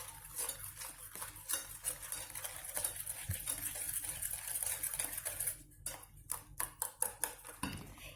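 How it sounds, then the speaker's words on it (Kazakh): A utensil scrapes and clinks around a bowl while it stirs lemon pie batter with milk, in steady light strokes that turn into sharper taps near the end. "Тағы да жақсылап араластырамыз."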